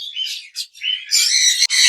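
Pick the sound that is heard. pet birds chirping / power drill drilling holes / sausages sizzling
pet birds chirping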